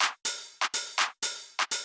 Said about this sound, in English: The first one is the open hi-hat. Sounds like this.